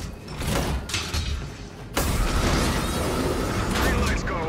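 A heavy mechanical door slides open in the shooter game Call of Duty: Infinite Warfare, with a sudden loud burst followed by a steady, dense rumble of machinery and ambience that holds to the end.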